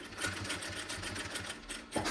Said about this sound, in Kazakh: Мен үстінен тігіп қойдым.